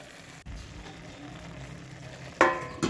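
Vegetables are stirred with spices in a pan, giving a soft, quiet sizzle and a couple of sharp scraping clinks of the utensil near the end.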